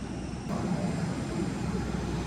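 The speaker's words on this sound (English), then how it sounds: "there's the plane" Airplane engines at an airport gate, a loud continuous roar and whine from nearby, steady throughout.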